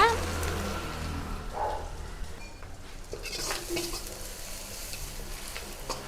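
Egg and shredded cabbage are stirred in a kadai during a cooking class, producing a steady frying sizzle with scraping stir strokes that continue throughout, with no talking.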